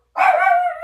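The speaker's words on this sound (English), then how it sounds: "That's the dog barking at me because I closed the door and she didn't know what it was." A single sharp, close bark from a female pet dog named Ladybug, indoors, one loud yelp that rings out briefly before trailing off.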